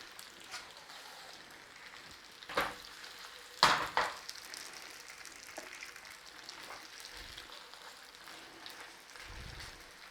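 Pierogi dumplings fry in butter in a pan, a soft, steady sizzle with a few sharper clinks and scrapes near the start as the pan is handled.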